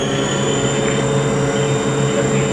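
A 2009 Haas VF2D CNC vertical mill spindle spins at high RPM, giving a steady, loud whine with sustained high tones over a constant mechanical hum.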